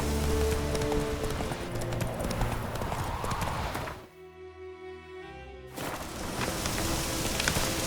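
Roach, the horse in The Witcher 3, gallops with dense rapid hoof clip-clops over rain-like ambience, and the hoofbeats break off for about two seconds midway before resuming.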